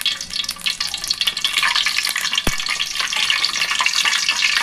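Cardamom, cinnamon and cloves fry in hot oil in a kadai, a loud close crackling sizzle that swells and stays steady, punctuated by one sharp knock.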